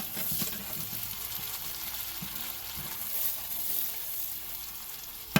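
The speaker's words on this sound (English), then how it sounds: "we need them to brown up, get cooked a little bit, and spread their flavor into the butter" Food browns and fries in butter in a pan, giving a steady close crackling sizzle with small pops throughout and a sharp click near the end.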